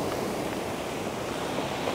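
Sea waves washing onto the shore at Sochi, a steady close hiss of surf with some wind noise, quiet and with no voices.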